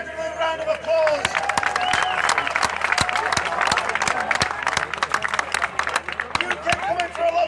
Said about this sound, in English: Give Jared a little round of applause.